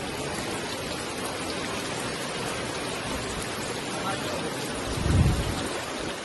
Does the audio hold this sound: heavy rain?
yes